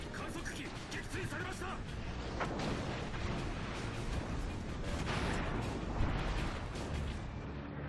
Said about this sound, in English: let's let our secondaries loose on him